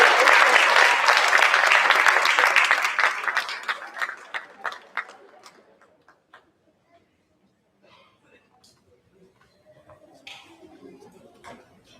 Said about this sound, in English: Let's give them a round of applause, our Classified Employees of the Year.